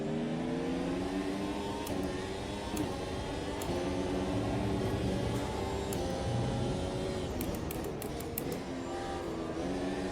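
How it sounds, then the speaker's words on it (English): F1 car engine in the Automobilista 2 racing game, a continuous high-pitched revving drone that rises and falls through gear changes, steady and loud with no talking. "Well, we're revving it so much at the moment."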